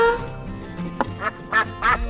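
Three or four nasal quacks come in quick succession after a short hum, close and fairly loud, like a toy or cartoon duck.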